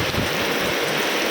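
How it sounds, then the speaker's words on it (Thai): Heavy storm rain pours down in a dense, unbroken roar, loud and close with no gaps. "ฝนตกคักแล้วพี่น้องเอ้ยดู"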